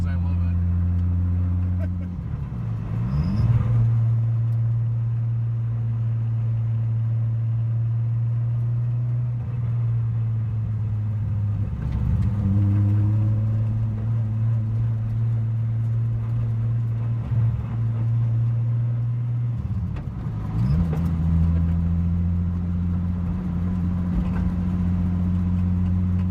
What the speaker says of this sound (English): That's why we gotta run that wastegate dump right by my ears